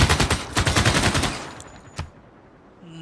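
Rapid bursts of automatic gunfire from a bombardment in Civilization VI rattle loudly for about a second and a half, then cut off, followed by a single sharp impact and quieter game sounds.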